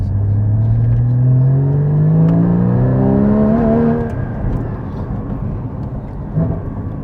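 A Porsche 981 GT4 engine revs hard while driving, climbing in pitch through a long pull before easing off into a lower rumbling drone, loud and close, with no talking.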